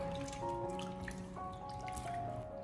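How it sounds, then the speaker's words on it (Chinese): Chicken legs being rinsed in a basin of clean water, soft sloshing and dripping close by, with a faint tonal hum steady underneath the splashes. "接着再次的添加清水给它清洗一下，把它用清水清洗2到3遍就可以了"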